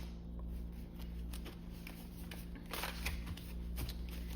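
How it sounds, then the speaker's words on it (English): A large, flimsy handmade deck of cards is shuffled by hand, giving soft riffling bursts and papery flutters at close range over a low steady hum. "It's hard to shuffle these because there's so many and they're pretty flimsy. So I'm gonna shuffle them like this."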